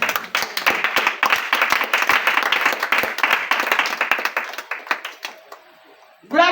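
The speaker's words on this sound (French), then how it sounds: "acclame Jésus" A church congregation applauds during a worship service, with dense, steady clapping from many hands that thins out and fades near the end, just before a voice comes in.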